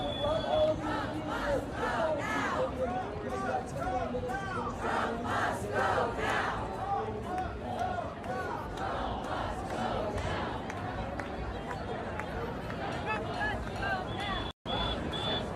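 Huge crowd of 'No Kings' Day protesters, a dense roar of chanting and shouting voices filling the air continuously from a distance, with a speaker talking over it.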